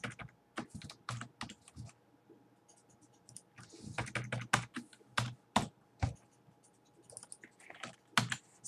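Computer keyboard typing while writing C# code for a DirectX 3D terrain generator, with close, irregular bursts of clicky keystrokes and short pauses between them.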